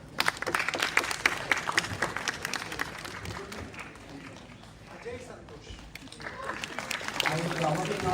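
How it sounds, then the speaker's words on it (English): Attendees at a MuleSoft tech meetup in Hyderabad give a round of applause, scattered fairly close clapping that thins out midway and then picks up again, with voices talking over it. "Round of applause, yes."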